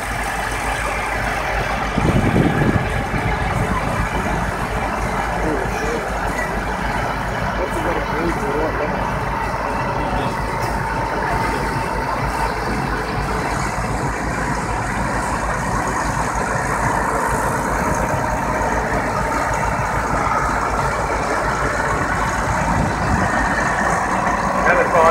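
A Case 535 horsepower wheeled pivot-steer tractor engine runs with a steady, loud rumble throughout, and a voice talks over it.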